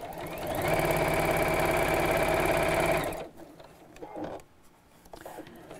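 A sewing machine stitches along the edge of foam for a rope handle bag, running in a fast, even whir for about three seconds before stopping, followed by quiet handling noises.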